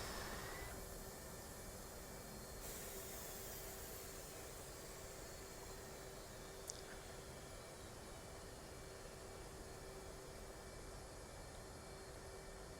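Muffled jet engine noise inside the closed F/A-18C cockpit in the DCS flight simulator, a steady dull broadband roar with a low hum, even and moderately quiet throughout, no voices.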